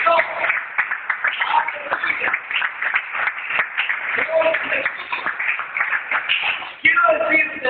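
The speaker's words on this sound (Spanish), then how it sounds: "denle un aplauso al Señor" Congregation clapping in a church after a call to applaud the Lord, a dense crowd applause with scattered voices and cheers mixed in, steady and moderately loud throughout.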